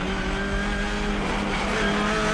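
TCR touring race cars running off the track at Phillip Island circuit, a steady loud roar of engines and tyres scrubbing across the surface with a sustained skidding wash, no talk.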